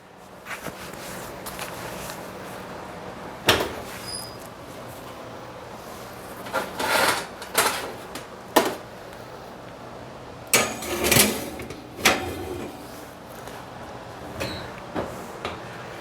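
An oven door handled in a home kitchen while making vegan French bread pizza, heard as several separate clunks and knocks spread across the stretch, fairly close and with no one talking.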